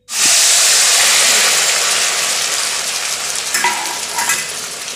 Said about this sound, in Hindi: प्याज, लहसुन जो मैंने कट किया था डाल दी हूँ।